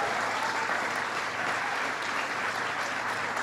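Audience at the Frame USA factory in Springdale applauding the craftsmen and women, a dense, even stretch of clapping heard at a distance, fairly quiet and continuous.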